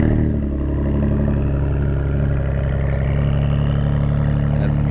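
A car engine cold start: a steady, fairly loud rumbling idle that holds even throughout, with light mechanical clatter and a voice talking briefly over it.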